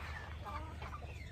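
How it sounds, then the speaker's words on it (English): Grown Isa Brown hens on a farm cluck softly nearby in a quiet, continuous murmur of short calls. "here's some chickens we bought when they was chicks"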